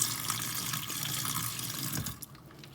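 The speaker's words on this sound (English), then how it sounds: "I'll pour just a little down the left side of the kitchen sink as well" Water poured from a bottle down the left side of an RV kitchen sink while winterizing, a steady splashing trickle into the drain for a couple of seconds, then stopping.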